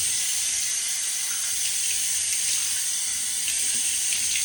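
Tap water runs steadily into a sink during face washing before a second shaving pass, a constant close hiss and splash with no breaks and no talking.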